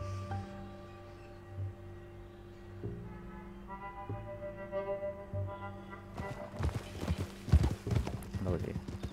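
Horse hooves clip-clop at a steady walking pace in Red Dead Redemption 2, close and moderately loud over a low ambient game drone, picking up busier, denser steps toward the end while someone talks over them.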